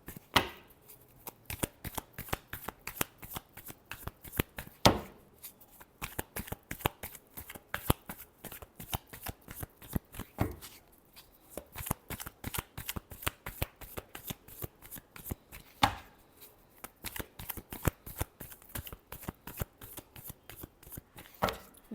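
Cards are shuffled for a tarot reading in a long run of rapid, crisp riffling bursts, close and clear, repeated in quick rhythmic cycles with brief pauses between them.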